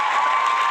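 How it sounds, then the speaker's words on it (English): Audience applause and cheering at a talk as a guest is welcomed, a dense burst of clapping with shouts, loud and continuous through the short moment. "And the crowd goes wild"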